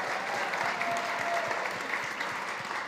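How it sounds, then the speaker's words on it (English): A conference audience at a food summit claps in a short, steady burst of applause that stays even and fairly close for a few seconds. "Give him a round of applause."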